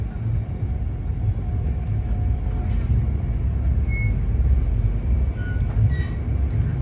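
Train rolling into Chittorgarh Junction station in Rajasthan, a continuous low rumble of wheels and carriages with occasional faint squeals and metallic tones over the steady drone.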